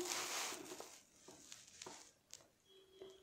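Mustard seeds, cumin and red chillies sizzling in hot oil, a faint, close crackle with scattered light pops and stirring clinks, no talk.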